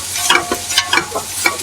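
Garlic and finely grated ginger sizzle steadily in a pan as a utensil stirs them, making quick scraping strokes at a rapid, uneven rhythm close to the listener.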